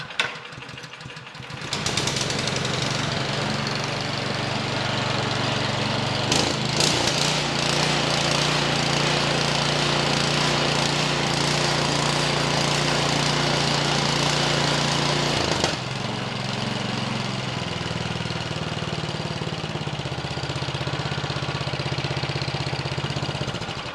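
A Craftsman snow blower engine runs indoors after being pulled to start, a steady close rumbling putter with a brief stumble partway through and a slight drop in tone near the end, no speech.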